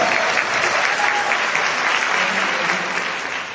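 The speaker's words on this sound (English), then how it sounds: "yeah, we can clap for that" A podcast summit audience breaks into loud, close, continuous clapping that thins slightly as it fades toward the end.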